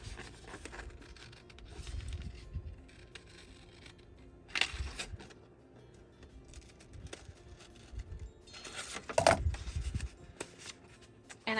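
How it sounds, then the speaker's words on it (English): Scissors snip a piece from a mini ephemera paper kit for a junk journal, with paper rustling and handling in between and two louder cutting bursts, close up and alone with no talking. "And I'm going to cut this off."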